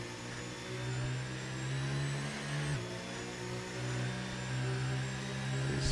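A race car engine drones steadily and then picks up in a racing video game, a continuous mid-pitched hum that steps and climbs again partway through, with no voices.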